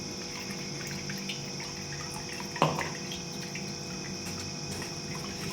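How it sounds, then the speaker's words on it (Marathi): Blended pani puri water, a spiced liquid, being strained, with a soft continuous trickle and faint tonal hum, a single sharp knock near the middle, and no talking. "छान एकजीव करून गाळून घ्यायचं पाणी."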